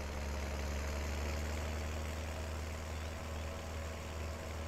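A tractor engine idles in Farming Simulator 19, set on a farm, with a steady low diesel rumble that holds constant and fairly loud throughout, without talk.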